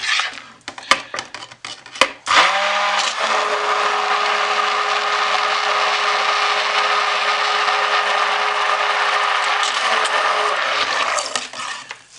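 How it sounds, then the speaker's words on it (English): A stick blender mixing soap with scent oil, a few clattering knocks, then a loud steady motor whir that runs for several seconds before stopping, followed by more clinks. "Stick blending with the scent oil in"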